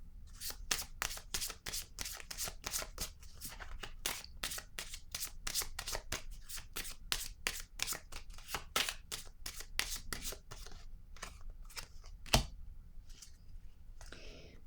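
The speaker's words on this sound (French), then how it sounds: "je vais piger une autre carte." Playing cards are shuffled and drawn from a deck: a long run of quick, crisp riffling snaps and flicks at a steady pace, close and fairly quiet, with one sharper slap near the end.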